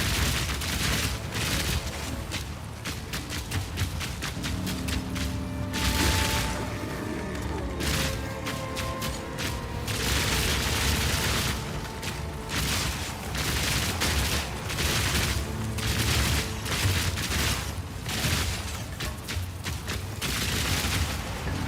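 Rapid automatic crossbow fire from a Witch Hunter in Path of Exile 2, with dense volleys of shots and bursting impacts running almost without pause and no voices over it.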